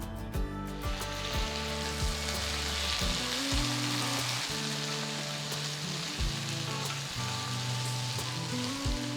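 Onions and tomatoes for a chicken fry sizzle steadily in a pan, a constant close crackle with background music underneath.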